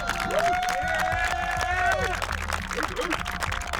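An audience at an obstacle-course show applauds and cheers in a dense, steady wash of clapping and crowd noise, with a voice or tonal sound running over it.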